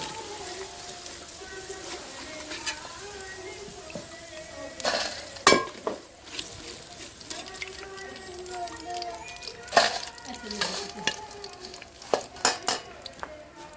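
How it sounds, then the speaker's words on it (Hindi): Fried French fries are scooped out of the pan into a vessel, with metal utensils scraping and clinking against cookware, a faint background sizzle, and a person talking throughout. "फ्राइज़ जो हमारी तैयार हो गई हैं, अब इनको हम बर्तन में निकालेंगे"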